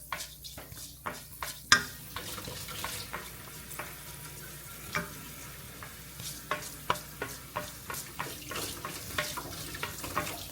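Fenugreek seeds frying in a pan for a Kottayam-style Kerala fish curry, a soft continuous sizzle punctuated by frequent spoon taps and scrapes as they are stirred, fairly quiet and without talk.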